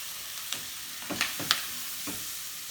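Chickpeas and potatoes sizzle steadily in hot spicy oil for a vegan curry, with scattered stirring scrapes and pops and no voices.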